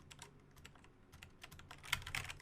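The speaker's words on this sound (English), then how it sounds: "This keyboard doesn't work." Quiet, irregular clicking of keys being typed on a computer keyboard during a live coding stream, with a few louder keystrokes near the end and no talking.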